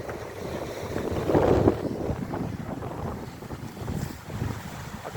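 Sea waves crash against shore rocks near a slipway and battery, a rough surging wash of water with a louder swell early on, mixed with heavy wind buffeting the microphone.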